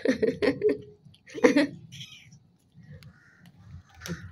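A crow gives a few harsh caws in quick succession, then sparse chatter and faint outdoor noise, with another short call near the end.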